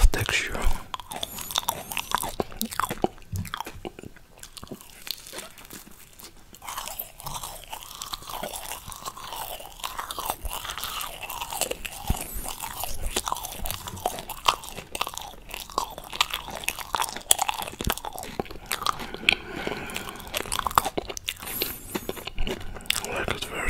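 Marshmallow unicorn pop candy is bitten and chewed up close, with soft squishing, sticky smacking and occasional crunchy bites repeating throughout. Faint whispering is mixed in.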